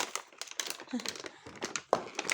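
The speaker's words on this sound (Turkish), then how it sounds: "Ben poşeti çekeceğim." A plastic bag from new toy packaging is tugged and crinkled up close in quick, irregular rustling bursts, with a few louder crackles. Voices talk in between.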